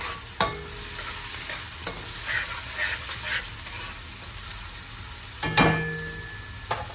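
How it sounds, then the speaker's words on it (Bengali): A little ginger fries in a pan with a constant sizzle, punctuated by a few sharp clanks and scrapes as it is stirred. "তারপরে এটাকে একটু নাড়াচাড়া দিয়ে নেবো"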